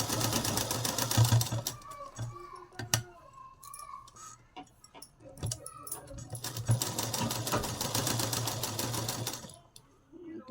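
A sewing machine stitches a small children's cloth mask in rapid, steady bursts, running loud for a couple of seconds, pausing with some handling clicks, then running again in a long continuous stretch.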